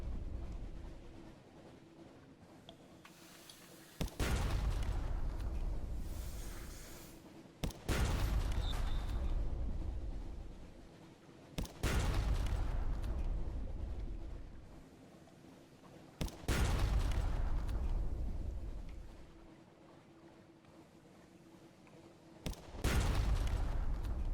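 Naval gunfire from ship combat in the Sunless Sea video game, with four or five loud booming shots spaced several seconds apart, each followed by a decaying rumble over a steady low engine-like drone.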